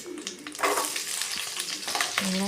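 Onions sautéing in a little oil in a kadai: a loud, close sizzle runs throughout, with repeated stirring scrapes and clatter from the spoon.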